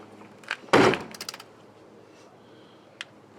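The door of a 2003 Chevrolet Suburban under repair after a highway crash shuts once with a sharp, loud thunk, followed by a few small rattling clicks and a faint tap, close by in an otherwise quiet space.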